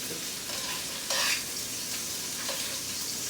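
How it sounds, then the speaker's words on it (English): Food sizzling and frying in a skillet, a steady close hiss with brief bursts of louder crackle and the scrape of stirring, no voices. "Let them cook another half of a minute, and then we're going to retrieve them out of the skillet"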